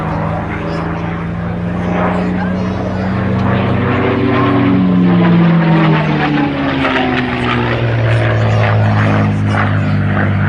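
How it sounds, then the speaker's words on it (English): A TF-51D Mustang propeller fighter with a Rolls-Royce engine flies at the Duxford summer air show. Its loud, droning engine note rises and falls in pitch as it passes close by. "along with aircraft such as this TF-51D"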